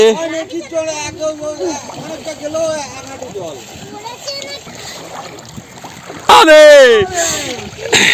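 Water splashes as people bathe in the Ganges, heard up close under near-constant chatter from several voices, children among them, with a loud burst of splashing and shouting near the end.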